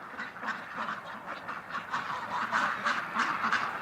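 A Muscovy cross duck gives a rapid run of raspy quacks, repeated steadily and moderately close.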